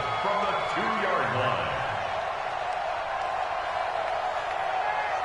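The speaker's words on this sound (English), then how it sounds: "The crowd here in the Dome making things difficult." Stadium crowd noise inside a domed football stadium in a PS4 football video game, a steady, loud roar that holds evenly throughout, with commentary speech running over it.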